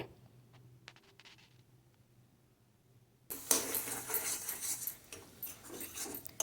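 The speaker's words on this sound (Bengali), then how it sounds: "মিডিয়াম টু হাই ফ্লেমে রেখে দিয়ে ভালো করে নাড়াচাড়া করে মিশিয়ে নিতে হবে।" Taro greens and shrimp are stirred in a pan over medium-high heat: a few faint clinks at first, then a loud, steady sizzling scrape that continues to the end.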